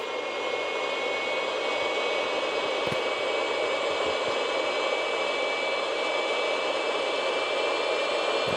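Jet engines on a large, heavy aircraft spool up after pushback with the parking brake still set, making a loud, steady roar and high whine that holds unbroken throughout, with a couple of faint clicks.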